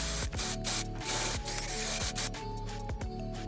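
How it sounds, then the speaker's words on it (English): A spray-on text sound effect in DaVinci Resolve 17, with repeated hissing bursts over a steady mechanical hum, several short pulses in quick succession at close range, with no voices. "First effect, the spray-on effect."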